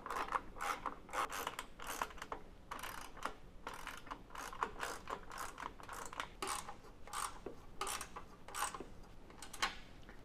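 A ratchet tightens nylock nuts on a roof-top tent mounting bracket on a 2016 Ford F-150, giving steady rapid clicking bursts with short pauses over about ten seconds, close and fairly quiet.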